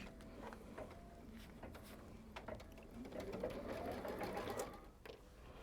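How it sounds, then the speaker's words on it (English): Embroidery machine stitching the quilting on the back of a quilt with Floriani thread, a steady rapid mechanical chatter that grows slightly louder midway, close and continuous with no talk. "It's going to stitch out the actual quilting part of the back."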